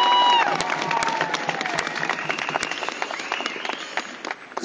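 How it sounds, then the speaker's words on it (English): A crowd at an outdoor rally to save Huddersfield's A&E department claps and cheers, with whoops and several sharp claps standing out over a dense, lively mass of applause and raised voices. "Round of applause, everyone."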